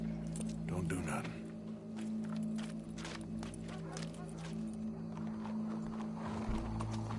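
Horse hooves clip-clopping at a show crowd scene, a steady hoof rhythm under continuous talk and background bustle throughout.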